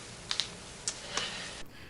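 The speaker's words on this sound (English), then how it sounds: "Just use the keyboard." A few sharp, isolated keyboard key clicks, spaced irregularly, fairly close and quiet, with no voices.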